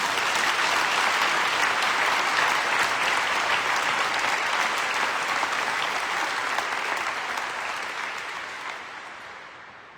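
A church congregation at Mass applauds continuously, dense steady clapping that holds strong for several seconds and then gradually thins and fades away.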